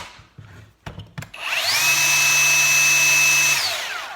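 After a few short taps and clicks, a Ryobi 18 volt One+ brushless cordless belt sander on a 4 amp hour battery whirs up to a steady high-pitched whine, holds for two seconds, then spins down.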